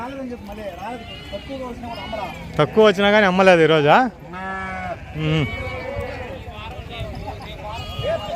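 Sheep bleat loudly a few times at the Gudur sheep market amid people talking nearby, with general crowd bustle around.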